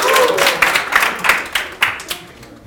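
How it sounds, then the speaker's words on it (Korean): At a Hana Financial Group New Year service, an audience claps for a team leader: a loud rush of applause that breaks into separate rhythmic group claps, then fades at the end. "우리 팀장님께 박수 한번 주세요."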